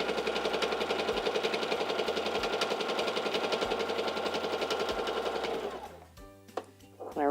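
Singer 3337 sewing machine stitching fabric, a loud steady mechanical whir with rapid needle clatter running continuously for about six seconds before slowing and stopping into a few quieter clicks.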